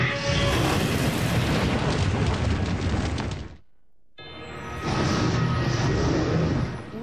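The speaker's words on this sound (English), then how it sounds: "A dragon attacking the castle." In a cartoon, a dragon attacks a castle with loud, sustained rumbling explosive booms, broken by a brief lull before the roaring blast resumes.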